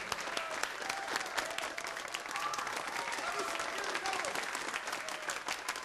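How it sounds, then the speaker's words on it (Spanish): Applause from a bar audience, a loud, continuous wash of many hands clapping that holds steady for several seconds with faint crowd voices underneath. "Un aplauso, por favor."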